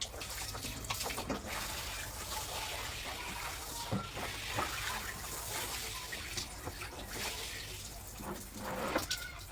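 Water streams and splashes steadily while garden plants such as ginger, spring onions and garlic are watered, a continuous gushing with small irregular spatters and drips close by.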